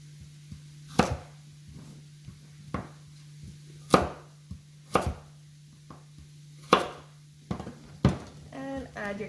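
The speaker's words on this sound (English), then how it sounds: "You can even cut your slices into small thirds, like so." Carrot slices chopped with a knife on a cutting board, a series of crisp, evenly spaced thuds roughly once a second, close up, with a low steady hum underneath.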